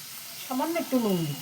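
Chopped tomatoes hit a hot pan for a vegetarian cabbage curry, giving a steady close sizzle while a voice talks briefly over it.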